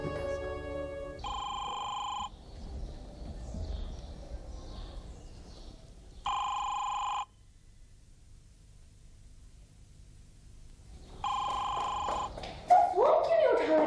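A telephone rings in three separate electronic bursts with long quiet gaps between them, clear and close, in a domestic drama scene; a voice comes in briefly at the very end.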